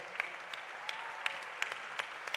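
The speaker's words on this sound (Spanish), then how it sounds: "a quien pedimos un aplauso, por favor" An audience at a live political event in Mexico gives a light round of applause. The clapping is soft and fairly distant, with a few sharper individual claps standing out.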